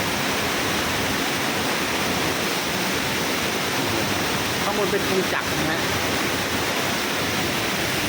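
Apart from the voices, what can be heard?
waterfall, standing in a cave under the falls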